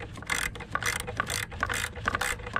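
Ratchet wrench snugging a 12mm bolt on an alternator bracket, a run of quick metallic clicking bursts repeating close up, loud and alone.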